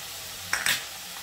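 Garlic fries in a pan for a Bengali doi chingri prawn curry, with a soft steady sizzle and two quick scraping stirs of a spoon or spatula against the pan near the middle.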